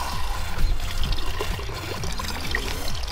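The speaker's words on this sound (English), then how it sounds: "And right now you have a really cool water sprayer." Water sprays steadily from a balloon-filler sprayer in a continuous hissing, trickling stream, close and fairly loud, with no talking.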